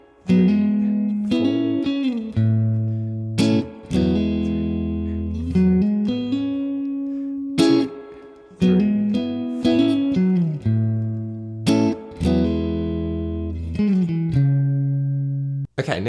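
Electric guitar playing the rhythmic break section of a song, with chords struck in repeated bursts and sustained tones between them, loud and close with no talking.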